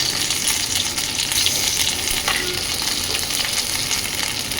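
Whole cumin seeds and ginger paste sizzle in hot white oil. The frying hiss is loud, close and continuous, with small crackling pops and the faint scrape of stirring, and no voices are heard.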